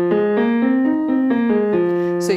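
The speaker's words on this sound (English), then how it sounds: "So, the minor pentatonic scale sounds like this." A voice sings a minor pentatonic scale on an oo vowel as a vocal warmup, stepping up and back down in steady sustained notes, close and clear with no talk.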